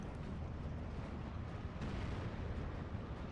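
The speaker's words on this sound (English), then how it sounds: "We have friendly artillery trying to suppress them" Artillery fire in the Steel Division 2 war strategy game, a faint, distant rumble of booming shells that rolls on steadily without distinct individual blasts.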